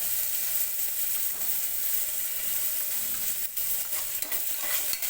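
Garlic sizzles in a pan with already-browned onion while making a cluster bean curry. There is a steady, close hiss of frying with a few light stirring scrapes, and no talking.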